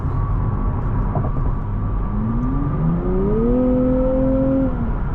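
Engine of a 2024 Nissan Z Heritage Edition revving during a test drive, a steady low cabin drone that climbs in pitch as the car accelerates through the gears, rising and holding before easing off, with no talking.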